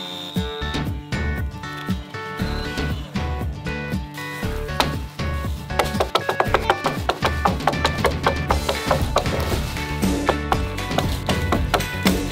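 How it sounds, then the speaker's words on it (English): Jiffy ice drill fitted with a Badger dirt auger boring into the ground outdoors, a loud engine drone with grinding and crackling of soil and wood, steady and close throughout. "My Jiffy ice drill with their Badger dirt auger"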